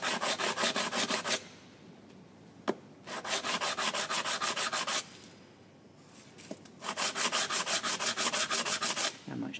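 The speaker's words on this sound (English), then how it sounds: "I'm just going to finish it off on a little bit of sandpaper." Sanding a soft jaw for a Wilton baby bullet vise on sandpaper: three long bursts of rapid, rhythmic back-and-forth rasping strokes, close and steady, with brief quiet pauses and a couple of sharp taps between them.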